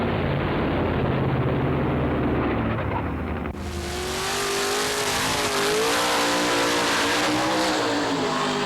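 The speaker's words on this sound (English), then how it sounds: "Charles Carpenter stole the show with his fabulous burnouts and hard runs" A 1955 Shoebox Chevy drag car roars loudly at a drag strip, a sustained engine blare cutting abruptly into a fresh high-revving run that holds strong and close for several seconds.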